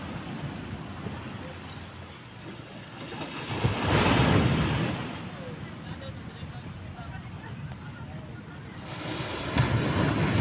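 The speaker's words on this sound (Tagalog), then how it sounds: "maligo ng dagat, presko yung dagat." Ocean waves at a beach where people are swimming, a steady surf wash with a swell of breaking water midway and again near the end, blended with wind and people talking.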